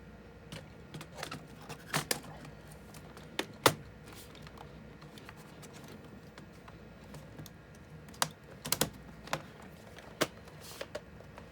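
A keyboard being fitted into a Compaq Armada 7700/7800 laptop during a battery replacement: scattered light plastic clicks and snaps at irregular intervals over a steady quiet background hiss, close up.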